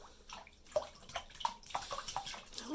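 A pet bird bathing in water, splashing in a quick run of close wet flicks and patters with short bursts of droplets, heard alone without talk.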